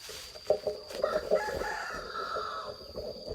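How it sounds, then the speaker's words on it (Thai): Free-ranging domestic village chickens near a young yang-na forest plantation: a rooster crows loudly and close by, with scattered clucks and hen calls around it, no talking. "เลี้ยงไก่เลี้ยงอะไรด้วยนะครับ ไก่บ้านนะครับ"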